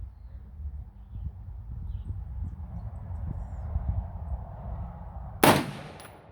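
A single sharp rifle shot from a 16-inch 6.5 Creedmoor AR-10 cracks out near the end, loud against a low rumbling outdoor background.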